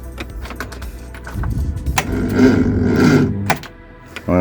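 A Reliant Supervan cranking on a jump start: clicks and rattles, then a rough, uneven turning-over burst that swells and drops away, ending in a sudden knock.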